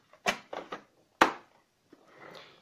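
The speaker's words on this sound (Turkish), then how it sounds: "Çekmecemi kapatıyorum." A drawer slides shut with a few quick wooden knocks and one sharp thud, close and alone, in a home sewing setting beside a Singer 1408 sewing machine.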